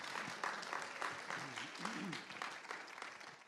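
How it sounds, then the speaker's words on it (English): Applause from an audience in a church hall, a dense crackle of many hands clapping that carries steadily through the clip, with a voice or two briefly audible underneath. "Do give her a clap."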